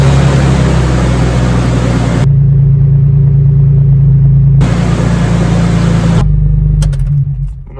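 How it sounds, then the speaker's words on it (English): A 2006 Jeep Wrangler TJ engine runs as a loud, steady low rumble, its idle note shifting with several abrupt changes in brightness, with no talking. "Go ahead and fire up, and we're done."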